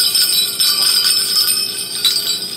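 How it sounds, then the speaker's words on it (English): A jingle bell inside a plastic toy ball tinkles in bright, shimmering bursts, with sharper jingles near the start and again around two seconds, close and fairly loud with no talking. "it's like a jingle bell"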